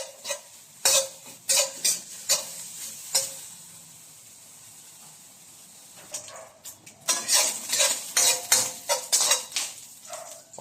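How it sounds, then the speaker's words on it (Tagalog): Pork fat rendering and being stirred in a pan for a Filipino jackfruit and mung bean dish: bursts of utensil scraping and clinking against the pan over a soft sizzle, with a quieter stretch midway before the stirring resumes. "Mamamantikain muna natin yung taba."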